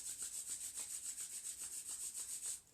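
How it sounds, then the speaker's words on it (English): Two palms rubbing briskly together during a yoga breathwork session, making a soft, rapid, rhythmic swishing of about a dozen strokes, close and alone before stopping. "Gently begin to rub the hands together, create some heat and some friction with the hands."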